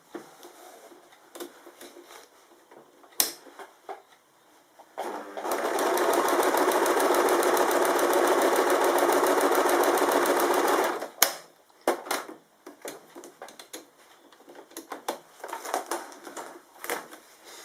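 A sewing machine stitching quilting runs in one steady burst of about five seconds, loud and close, with quieter handling clicks and rustles of fabric before and after.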